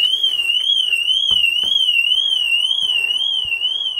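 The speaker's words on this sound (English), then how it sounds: "triggered the theft alarm system, the anti-tilt sensor." A loud electronic theft alarm on a Ferrari 458, set off by its anti-tilt sensor, wails continuously up close, its pitch warbling rapidly up and down, with a few faint knocks in the background.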